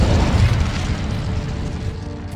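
A fire spell cast in Hogwarts Legacy bursts into a loud, deep whooshing roar of flame that holds steady for a couple of seconds and then slowly eases off.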